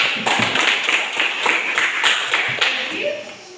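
A group of students clapping hands in a classroom, a close burst of overlapping claps with a few sharper taps, fading toward the end.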